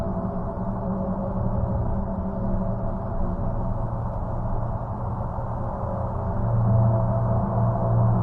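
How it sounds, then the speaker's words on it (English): A Voyager recording of Jupiter's magnetosphere, converted into sound, comes through as a dense, steady low roar and hiss with faint wavering tones. It swells slightly near the end, and no voices are heard. "Now that noise is apparently made by magnetically charged particles being blasted out into space"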